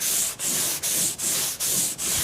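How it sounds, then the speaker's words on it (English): Rhythmic back-and-forth sanding strokes on car body filler, about six in quick succession, a harsh close scraping rasp with brief pauses between passes. "I can already tell that it's really sanding up quite well."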